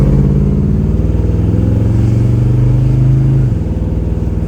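A 1948 Chevrolet 3100 panel truck engine drones steadily as it drives down the street, a low rumbling hum that shifts pitch slightly near the end, close and fairly loud.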